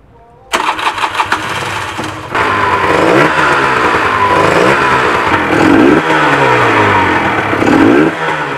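A 1987 Yamaha 900 XJ motorcycle engine cranks and catches, then settles into a steady running idle with a few throttle blips swelling the sound, close and loud.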